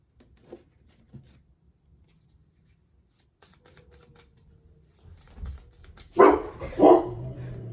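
Several dogs somewhere down a neighborhood street start barking after a near-silent stretch, with two loud, sharp bark bursts close together near the end.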